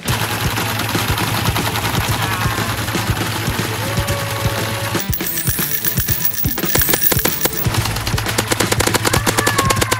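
A gel blaster firing glow-in-the-dark rounds unleashes rapid, continuous full-auto clatter, loud and close, with a short pause midway before the fast ticking bursts resume.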